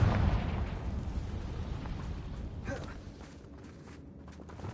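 A Confringo blasting spell goes off in the Hogwarts Legacy video game, a loud low boom at the start that rolls into a long rumbling decay and fades to a quieter background by the end.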